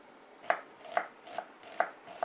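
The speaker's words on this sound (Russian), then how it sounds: "мелким вот таким кубиком нашинковать" A knife chops food by hand into small cubes for manti, five crisp knocks on a cutting board at an even steady rhythm, close and fairly quiet.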